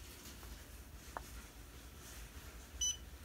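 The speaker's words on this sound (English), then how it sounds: "Listen for the beep." A short, bright electronic beep near the end from a 2007 Chevy Cobalt with a no-start fault, sounding once over a quiet background hum with a faint tick earlier.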